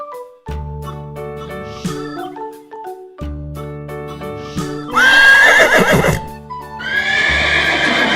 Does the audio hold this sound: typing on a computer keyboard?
no